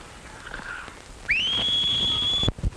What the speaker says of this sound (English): I don't think you can whistle either.